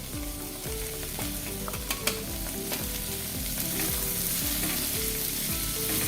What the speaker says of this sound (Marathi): आता ह्या व्यवस्थित भाज्या त्या मसाल्यामध्ये चांगल्या परतून घ्यायच्या